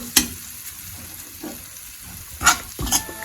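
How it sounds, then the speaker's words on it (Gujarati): Fine wheat flour roasts in ghee in a pan over a medium gas flame, a soft sizzle broken by a few sharp scraping stirs, near and with no talking. "ઘઉંનો લોટ જે લીધેલો છે ઝીણો તે એડ કરી દઈશું અને આ રીતના તેને મીડિયમ ગેસની ફ્લેમ ઉપર શેકી લઈશું"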